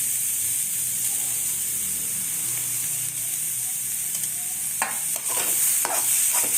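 A ground green chilli mixture is stirred in a hot pan for a paneer roll filling, a steady close sizzle running throughout with a few scraping spoon strokes near the end.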